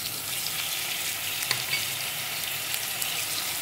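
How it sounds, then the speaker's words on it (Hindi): Okra (bhindi) frying in a pan for a cumin masala dish, a steady close hiss of sizzling oil with a brief clatter of stirring midway, no voices. "ये फ्राई होने लगते हैं, हम भिंडी फ्राई"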